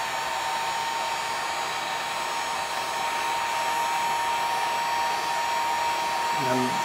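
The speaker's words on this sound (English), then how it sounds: "Just applying the heat right at the bend on this mirror." Heat gun blowing on the bend of a snowmobile handguard mirror, a steady loud whirring blower hiss with a faint tone, continuous and close throughout, no talk.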